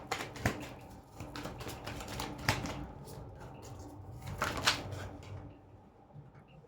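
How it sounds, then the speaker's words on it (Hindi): Tarot cards are shuffled by hand in a string of quick riffling and flicking bursts, close and moderately loud, with a brief pause between rounds and no talking. "चलिए एक बार शफल करते हैं"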